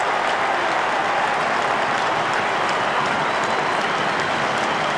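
A big football crowd at the MCG gives a standing ovation during a 1998 AFL match, Melbourne v North Melbourne, with loud, sustained applause and cheering that fills the stadium evenly throughout.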